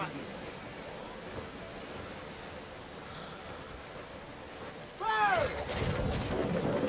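A ship's cannon booms in Assassin's Creed IV: Black Flag, with one loud blast and a rolling rumble over steady sea and wind ambience, alongside game voices and a player talking.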